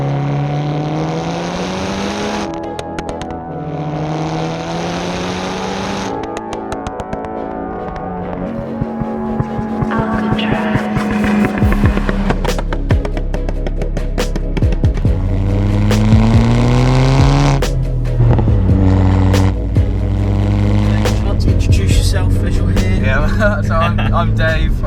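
Seat Cupra R with a 370 bhp K04 hybrid turbo and forged engine, driving on public roads: a steady engine drone rising and falling through the gears, with revs climbing and dropping, close and loud throughout.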